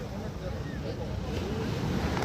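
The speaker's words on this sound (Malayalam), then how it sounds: "കടലിൽ നിന്ന് തിരികെ വരുന്ന ബോട്ട് തീരത്തേക്ക് അടുപ്പിക്കുന്ന ഒരു കാഴ്ചയാണത്" A fishing boat returns from sea toward the harbour shore, its low rumbling drone blending with wash from the waves and gusting wind buffeting the microphone, steady and fairly loud throughout.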